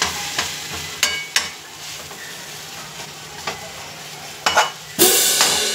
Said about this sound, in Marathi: हा इतका वेळ परतत राहायचं की ते कुरकुरीत व्हायला पाहिजे